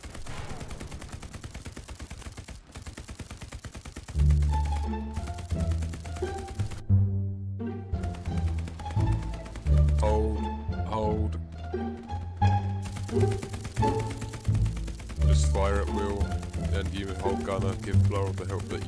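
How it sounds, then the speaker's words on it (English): Machine gun fire from a tank in Hell Let Loose, a German-versus-American armored fight, with rapid bursts and single heavy shots breaking over a constant engine drone, while voices talk throughout. "Get the machine gun firing, suppress him at least."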